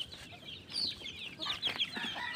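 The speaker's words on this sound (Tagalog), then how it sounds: "may mga inahin po kasi tayo dito na mga pakalat-kalat" Hens and chicks cluck busily at feeding time in a backyard pen, a steady overlapping chatter of short clucks and peeps close by with no talk.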